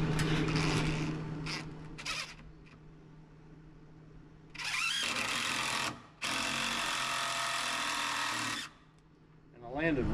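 Power driver running screws into wooden framing boards for the exterior end walls of a barndominium, two long loud whirring runs after some brief taps, with a person talking at the start.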